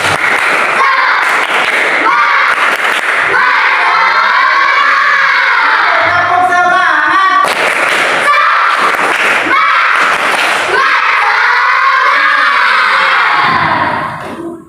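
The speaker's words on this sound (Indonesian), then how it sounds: "Semangat dulu, tepuk semangat" Schoolchildren in a classroom lesson shouting and clapping together in a rhythmic spirit-clap chant, loud and close, with bursts of claps and chanted cries repeating in several waves.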